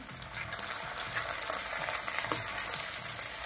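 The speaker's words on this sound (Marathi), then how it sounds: "तर आपल्याला हा कांदा व्यवस्थित ब्राऊन होईपर्यंत भाजून घ्यायचा आहे" Onion sizzles steadily in a pan for egg masala gravy, a continuous close frying crackle with faint stirring scrapes and no talk.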